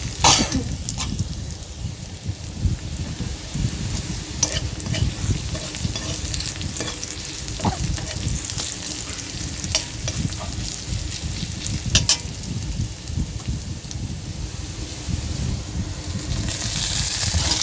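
Chopped water spinach and potato are stir-fried in oil, giving a loud continuous sizzle with repeated scraping stirs of a spatula and a brief cough-like sound near the start.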